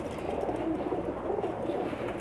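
Pakistani pigeons on a rooftop coo softly with low, burbling calls, repeated over a murmur of background noise.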